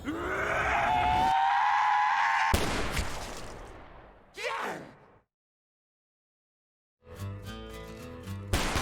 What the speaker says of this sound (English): Where are those screams coming from?